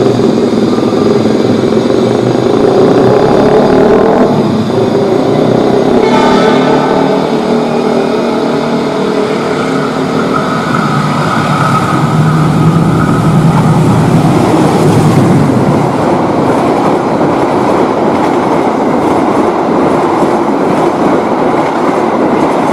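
A passenger train roars past at about 120 km/h, loud and steady, with rumbling wheels, rhythmic clatter over the rails and a rushing wind noise throughout.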